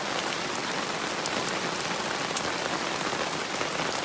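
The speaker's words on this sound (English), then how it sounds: "It's pouring." Heavy rain pours steadily onto a taut tarp in the bush, a dense, constant hiss of drops drumming close by, with no voices.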